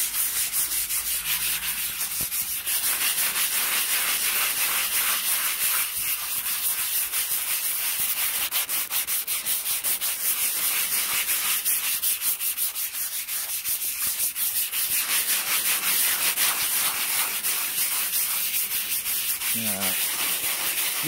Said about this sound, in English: 220 grit sandpaper.